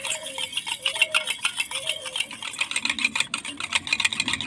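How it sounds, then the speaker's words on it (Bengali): A spoon scrapes and clinks rhythmically against a bowl while sour yogurt, sugar and salt are mixed together for nan paratha dough, fairly close, with someone speaking over the stirring. "টক দই চিনি লবণ ভালো করে একটু মিশিয়ে নেব"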